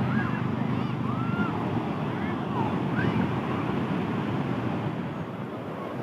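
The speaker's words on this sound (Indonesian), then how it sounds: "Seperti inilah situasi di pantai barat Pangandaran." Waves roll and wind buffets the microphone on Pangandaran's west beach, a steady low roar with faint distant calls and voices mixed into the surf.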